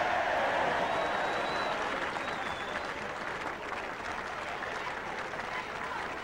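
A large cricket crowd at the 1977 England versus Australia third Test cheers and applauds steadily, a dense, sustained roar of clapping that continues throughout with a whistle near the start.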